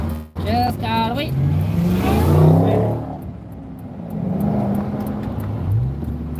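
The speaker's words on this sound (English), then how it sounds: "I can hear the supercharger on that Mustang." A supercharged Ford Mustang revs loudly nearby on a city street, its engine note climbing and then falling back to a rumble as traffic passes, with someone talking over it.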